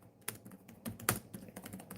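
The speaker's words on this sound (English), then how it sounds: "I'm typing in sun god Norse mythology." Quick typing on a computer keyboard: a short burst of irregular, close, fairly quiet key clicks with no one talking.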